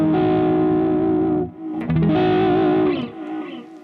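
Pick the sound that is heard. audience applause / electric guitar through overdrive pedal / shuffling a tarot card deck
electric guitar through overdrive pedal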